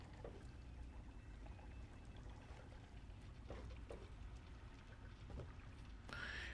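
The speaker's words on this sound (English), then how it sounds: "It almost feels like the water sounds are echoed" Watery ambience from Fallout 3, a steady low wash of trickling and dripping water with a faintly doubled, echoing quality, with a few soft splashes and no talking.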